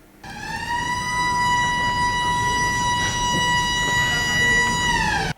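A loud, steady siren signalling the start of an exam blares for about five seconds on a single sustained pitch, then cuts off.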